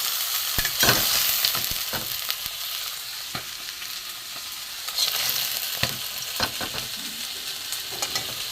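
Fish heads and rui fish tails fry in oil in a wok with a dense, continuous sizzle, broken by occasional stirring scrapes and pops, close and steady throughout.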